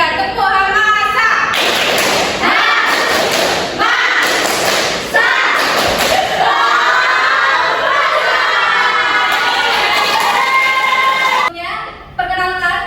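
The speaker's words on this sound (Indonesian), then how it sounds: "1, 2, 3, tepuk masa." A classroom of students performs a group clapping cheer, a loud crowd of young voices shouting with rapid thudding claps in bursts over about twelve seconds, then cutting off abruptly.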